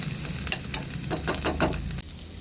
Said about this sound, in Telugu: అలాగే తురిమి పెట్టుకున్న వెల్లుల్లిపాయ రెప్పలు ఒక్కసారి అటు ఇటు కొంచెం ఫ్రై చేసుకుందాం.